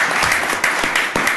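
Applause fills a county commissioners court session, a steady patter of many hands clapping together, close and loud for the whole short stretch.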